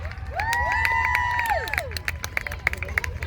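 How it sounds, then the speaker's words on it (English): An outdoor family festival crowd cheers with loud sustained shouts, followed by a scattering of claps and chatter, at the Festival of Wheels in Ipswich. "please give a huge round of applause for my amazing team"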